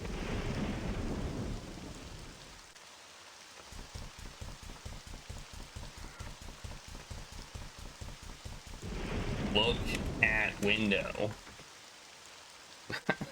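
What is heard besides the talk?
rain against window with thunder in Trilby's Notes video game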